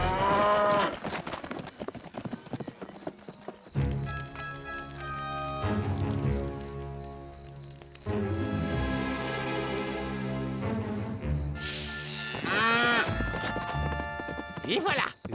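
Cartoon cattle in a Lucky Luke western moo loudly in long, drawn-out calls at the start and again near the end. Hoofbeats, music and voices fill the gaps in between.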